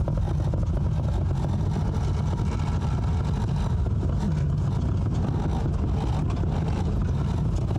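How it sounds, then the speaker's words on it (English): A wrecked, abandoned police car rolls along on destroyed tires with damaged suspension, its engine droning steadily in a continuous low rumble with road and tire noise throughout, loud and close, no voices. "The car is actually moving, engine is pulling smooth, transmission shifts fine."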